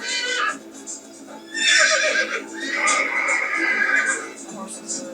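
Horses whinny and neigh uneasily in a scene from the TV drama Heartland, several calls rising over a steady backdrop, with speech running over parts of it.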